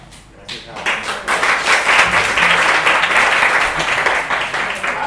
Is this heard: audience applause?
yes